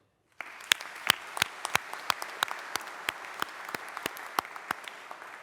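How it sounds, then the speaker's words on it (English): Audience at a university graduation ceremony in Greenwich applauding the graduates' supporters: steady dense clapping that starts abruptly and carries on with sharp individual claps standing out, no talk over it. "So let's get a massive cheer for them."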